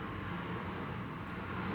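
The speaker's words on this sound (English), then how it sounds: "I think there's a plane." A passing airplane heard from indoors through a window, a steady low rumbling drone that stays even throughout, with no talking.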